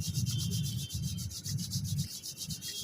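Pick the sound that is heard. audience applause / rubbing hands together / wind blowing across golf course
rubbing hands together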